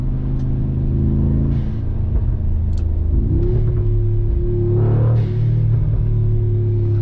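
Brabus G800 XLP version of the Mercedes G-Class, a tuned V8 SUV, driving with a deep steady engine rumble that climbs in a rev sweep midway, loud and close with no talk.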